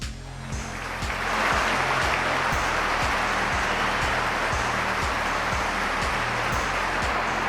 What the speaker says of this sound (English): those who could paid their respects with a minute's applause